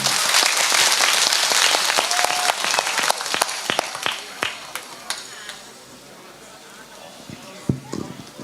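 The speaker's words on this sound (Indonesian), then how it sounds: "Tepuk tangan untuk BTV" Crowd applause honoring a TV crew at an outdoor Islamic religious gathering in Magelang, loud at first then thinning into scattered individual claps, with a voice talking over the fading end.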